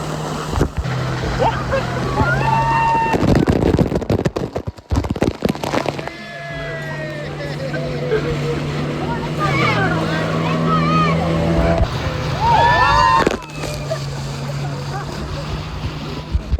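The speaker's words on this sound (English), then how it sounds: "The rapid shooting basically consists of having fun on a fast boat while getting wet." A fast motorboat shoots river rapids in Taman Negara, Malaysia, roaring steadily with rushing, splashing water, broken by sharp bangs and bursts of excited shouting from passengers.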